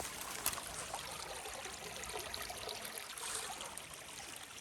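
River running inside a farm property in Zebras, central Portugal, with big rocks; a faint steady wash of flowing water, continuous and distant, with no voices.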